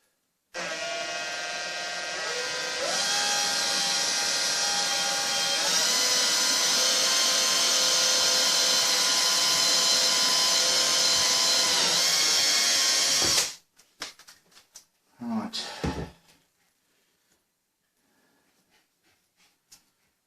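A power drill whines steadily and loudly for about thirteen seconds, its pitch shifting slightly as it bites through a wooden drawer, then stops, followed by a few brief clunks.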